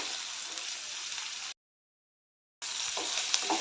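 Ginger, garlic, cashews and sesame seeds fry in hot oil in a pan, giving a steady close sizzle that cuts out to silence for about a second before the sizzling resumes.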